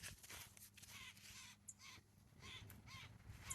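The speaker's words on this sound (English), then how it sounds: "The birds sure are out this morning." Crows cawing on a morning homestead garden near bird feeders, several harsh caws repeating at a steady pace, moderately distant and quiet over outdoor background noise.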